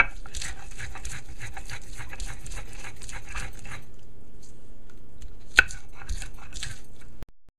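Hand grinding of seasoning for curried fried smelt, a rapid run of scraping, crunching strokes that stops partway, then a brief second burst of grinding.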